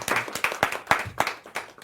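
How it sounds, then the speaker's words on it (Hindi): An audience at a Hindi poetry gathering claps in a brief burst of hand applause, several sharp overlapping claps at an uneven rhythm, fairly close, with no speech. "हम आपका भी स्वागत करते हैं। जोरदार ताली के साथ।"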